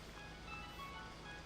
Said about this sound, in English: An alarm's gone off on my Samsung.